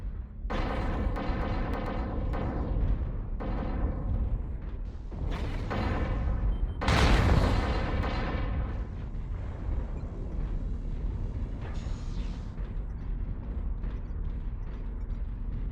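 Heavy artillery-strike blasts crash in the MechWarrior game, the mech 'The Rifleman: RFL 3C' in action: a run of loud booming impacts in the first eight seconds, the biggest near the seven-second mark, then a sustained mechanical rumble and hum with no talk.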